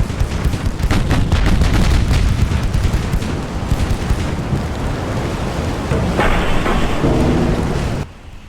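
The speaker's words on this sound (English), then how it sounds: "And we are now firing armor piercing with a very," Rumbling naval gunfire of armor-piercing shells in Ultimate Admiral Dreadnoughts, a continuous loud, booming barrage with rolling low thunder and overlapping blasts that abruptly drops off near the end.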